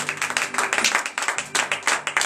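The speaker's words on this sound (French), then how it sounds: "Donnez de vive acclamation à Dieu ce matin." Worshippers at a morning prayer service in Comè, Benin, clap in a quick, steady rhythm while acclaiming God, the bursts of hand claps rising and falling in regular pulses at moderate volume.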